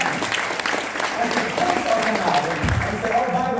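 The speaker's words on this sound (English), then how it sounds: "can we give you a round of applause for that?" Sustained audience applause at a financial firm's speaking event, dense clapping that fills the whole stretch at an even level, with a voice briefly rising near the end.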